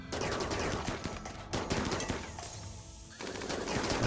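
Sustained rapid gunfire from a RimWorld colony firefight, dense automatic bursts and overlapping shots rattling on for several seconds with a brief dip near the end before resuming, no voices.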